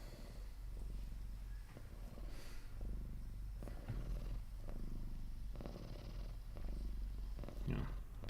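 A pet cat purrs close by in a steady low rumbling rhythm that carries on throughout, with faint background noise.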